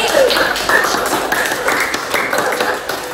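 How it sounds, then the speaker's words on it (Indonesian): A classroom of students claps together for a classmate, a dense, loud patter of hand claps lasting a few seconds. "beri tepuk tangan untuk Rizky"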